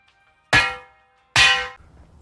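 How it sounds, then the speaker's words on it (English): A metal stake hammered into place by striking it with another metal stake, two sharp ringing clangs about a second apart, each fading with a short metallic ring, close and loud. "I just used the other stake to whack this one into place"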